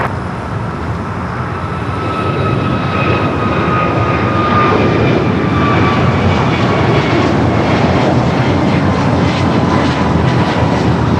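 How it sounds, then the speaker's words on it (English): A jet airliner bound for JFK takes off on runway 25 right, its engines building to a loud, sustained roar with rising whine tones over about eleven seconds, no voices present. "the flight to JFK rolling down at 25 right"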